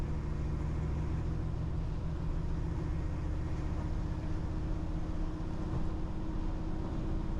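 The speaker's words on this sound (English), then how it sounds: "Now we'll give it a little bit more gas." A car engine gains revs as the driver presses the gas, a steady loud low drone from inside the vehicle that slowly builds, with no talk.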